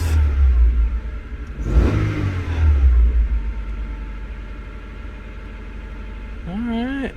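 A 1996–2000 Honda Civic engine running rich idles with a low, uneven rumble and a surge in the middle, close by, and a voice speaks briefly near the end.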